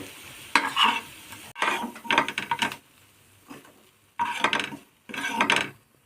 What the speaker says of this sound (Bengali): তিলের বড়া লাল লাল করে ভাজা হয়ে গেছে